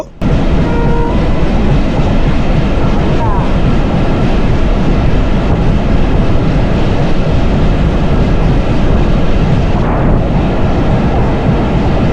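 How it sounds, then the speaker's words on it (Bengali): The Benapole Express passenger train running in Bangladesh, heard up close as a loud, continuous roar and rumble with faint rhythmic rail clatter, steady throughout with no pauses. "এই মুহূর্তে যে ট্রেনটা আমার সামনে দেখতে পাচ্ছেন এটা হচ্ছে বেনাপোল এক্সপ্রেস"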